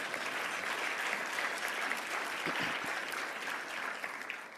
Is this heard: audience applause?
yes